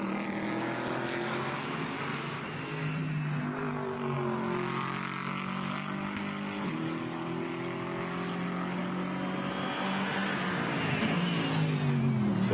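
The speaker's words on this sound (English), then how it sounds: "Now the car snarls its way up towards the Le Corne sector." A GT4 race car at the Spa circuit snarls uphill, its engine note climbing through the gears with distinct shift breaks, a loud, steady mechanical roar heard alone with no talk.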